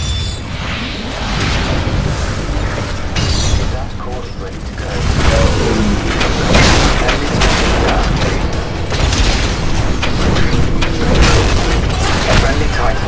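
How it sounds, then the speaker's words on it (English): Mortar titans in Titanfall keep firing, and their explosions land as a relentless run of loud booms, whooshes and mechanical clatter. A voice talks over the chaotic battle noise. "Those mortar titans are really hurting the harvester."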